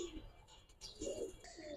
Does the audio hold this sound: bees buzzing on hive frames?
no